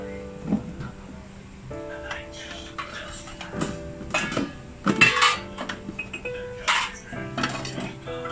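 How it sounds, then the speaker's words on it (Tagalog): Dishes being washed in a home kitchen, with irregular clinks and clatters of plates, pots and cutlery against a steady tonal hum and a low murmur of background voice. "dahil tulog na si Pink Alesana, haayusin ko lang itong kusina and maghuhugas na ako ng pinggan."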